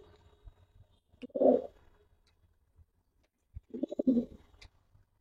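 Pigeons at a pigeon sale give two short bursts of low cooing, the second a little longer, separated by quiet with faint background noise.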